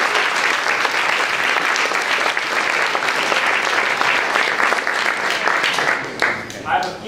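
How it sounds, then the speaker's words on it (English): Loud, dense applause fills the hall from a crowd at university final project presentations, a continuous roar of many hands clapping that thins out slightly toward the end. "Let's give those a round of applause."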